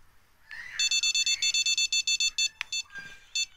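A fishing rod bite alarm in the Fishing Planet game beeps in a rapid run of sharp, evenly spaced electronic tones, then stutters with a few isolated beeps, loud and close against a quiet background.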